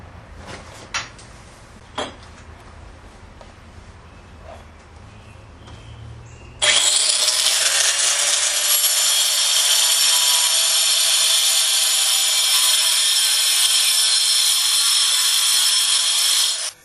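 A high-speed power tool running at about 20,000 RPM puts the finish on a wood piece, starting abruptly after a few faint knocks and then holding a loud, steady, bright whine to the end, with no talk.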